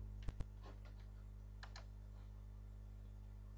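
Typing on a computer keyboard during a recorded interview: a few faint, sparse key clicks, including two sharp taps close together, over a steady low electrical hum.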